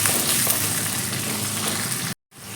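Green chillies fry in oil with a steady, close sizzle and crackle that fills the pan, cutting out abruptly near the end.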